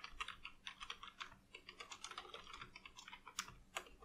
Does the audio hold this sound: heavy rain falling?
no